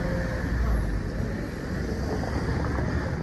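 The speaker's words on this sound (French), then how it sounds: "Très très belle Mustang, édition Mach-1." A Ford Mustang Mach-1 goes by on a street, its exhaust giving a broad, steady rumble that holds loud throughout, mixed with general traffic noise and no voices.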